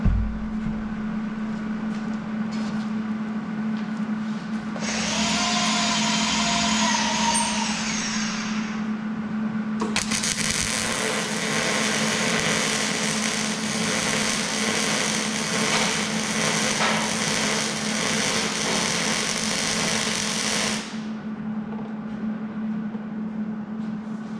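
A welding bead run with argon shielding gas gives a steady crackling hiss, first in a short burst and then a longer stretch of about eleven seconds, over a constant low hum.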